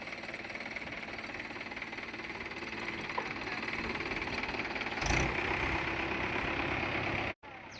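A tractor engine runs steadily in a rural cleanup setting, a continuous close mechanical drone with knocking texture, briefly louder and then cut by a short dropout near the end.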